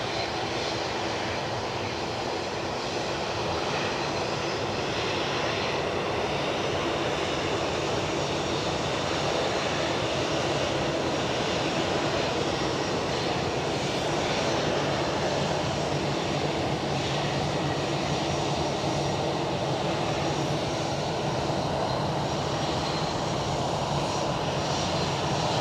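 An EasyJet airliner inbound from Bristol lands at Edinburgh Airport, its engines giving a loud, steady roar that holds throughout with a broad rushing wash and no pauses.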